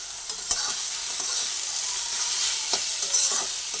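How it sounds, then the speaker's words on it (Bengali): A chilli mixture with salt fries and is stirred in a pan, giving a loud, steady hiss of sizzling oil broken by a few sharp scrapes and taps of the spatula. No one speaks. "এবার ভালোভাবে নাড়াচাড়া করে ভেজে নেব"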